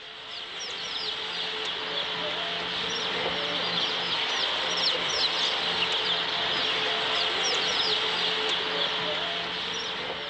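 Battery-farmed chickens in a crowded shed, many birds clucking and squawking at once in a dense, continuous chorus with sharp calls scattered throughout.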